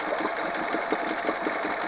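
A Honda 8 hp four-stroke outboard motor, slowed by ethanol fuel trouble and a carburetor cleaning, idles with a steady close chugging and an even, slightly uneven low pulse, alone.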